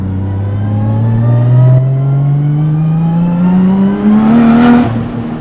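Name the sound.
600hp sequential 2JZ Toyota JZX100 engine revving with wastegate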